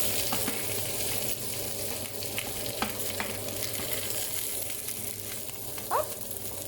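An onion fries in a saucepan with a steady, close sizzle throughout, broken by a few faint clinks and stirring noises.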